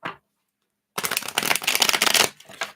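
Tarot cards being riffle-shuffled up close, with one brief flick, a pause, then a loud continuous fluttering rattle for over a second and a short tap at the end, with no talking.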